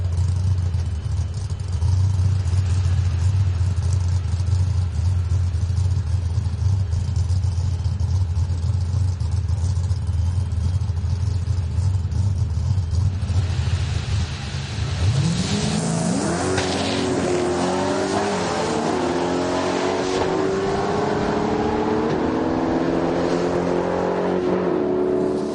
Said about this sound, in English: Sean Fling running his V10 powered Mercury wagon. Oh, yeah. Excuse me, it's a Fairlane wagon